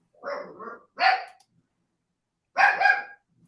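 A dog barks in close, loud bursts: two quick barks in a row, then another a beat later, then a pause before a longer, more drawn-out bark near the end, with no talking.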